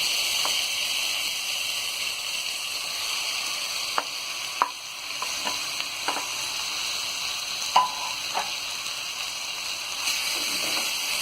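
Roasted mashed eggplant stirred in a hot pan for baingan bharta, a steady frying sizzle broken by scattered scraping clicks of the spoon, close and moderately loud with no talking.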